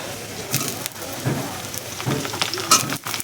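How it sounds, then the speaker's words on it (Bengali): Onion and pointed gourd fry in a pan, a crackling sizzle broken up by repeated scraping stirs and clinks of a spatula. "পেঁয়াজটা অল্প ভেজেই তারপর পটলগুলো দিলাম"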